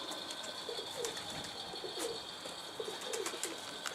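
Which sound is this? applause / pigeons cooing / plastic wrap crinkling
pigeons cooing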